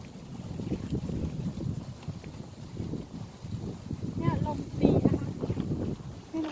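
Gusty wind before rain buffets the microphone at a natural fishing spot in Thailand, with low rumbling rushes, while people talk nearby and a few high chirps cut through midway.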